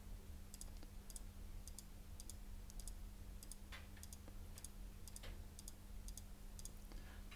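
Crisp computer mouse clicks come in quick pairs at a regular pace while a 2D polygon is drawn, standing out above a quiet, steady electrical hum.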